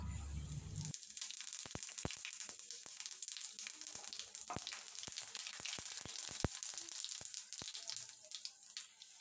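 Dried red chillies, whole garam masala and cumin seeds sizzle in hot mustard oil for dhaba-style chicken curry, a steady close crackle with sharp pops scattered throughout after a brief quieter start.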